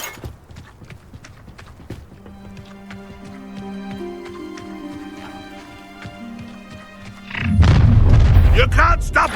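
A Confringo explosive spell goes off in the video game Hogwarts Legacy as a loud, booming blast with a rumbling low-end burst about two-thirds through. Quieter game effects and tonal hums come before it.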